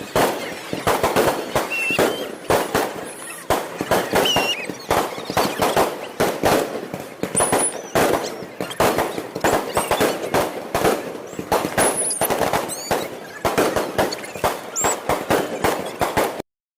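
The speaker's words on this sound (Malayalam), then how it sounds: "നമ്മളിന്ന് കാണാൻ പോകുന്നത് നമ്മുടെ തൃശ്ശൂർ പൂരത്തിൻ്റെ സാമ്പിൾ വെടിക്കെട്ടാണ് കേട്ടോ." Sample fireworks display at the Thrissur Pooram festival in Kerala: a loud, relentless barrage of firecracker bursts and bangs packed tightly together, with a few faint whistles, continuing without pause.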